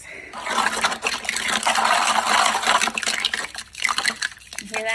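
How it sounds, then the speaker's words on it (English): Reclaimed clay slurry pours and splashes out of the bottom of a bucket, a continuous wet gush with sloshing and gurgling that tapers off into scattered plops and drips, close by. "I'm just gonna dump the rest from the bottom of the bucket after I stir it a little bit"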